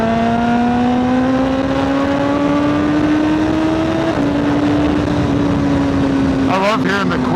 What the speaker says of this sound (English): I love hearing the quick shifts with this exhaust on. It sounds so good.